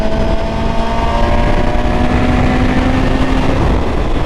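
BMW S1000RR sport motorcycle cruising on an open road at about 100, engine held near 6,500 rpm, a steady loud drone of engine hum and wind rush throughout with a sustained even tone and no talking.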